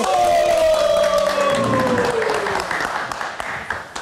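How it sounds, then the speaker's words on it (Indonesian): A live talk-show audience at Meet Nite Live applauds and cheers, with loud clapping and whoops that gradually taper off. A voice rises and slides over the crowd noise at the start. "Kita berikan tepuk tangan sekali lagi"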